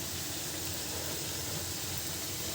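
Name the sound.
pitha frying in oil in a wok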